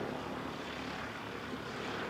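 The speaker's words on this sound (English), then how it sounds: "So these Cessna Skyhawk." Steady drone of a Cessna Skyhawk's propeller engine at an airfield, a constant broadband roar holding level throughout, moderately distant with no voices.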